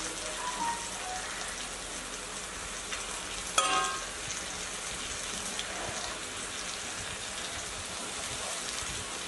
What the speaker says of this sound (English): Add sliced onions.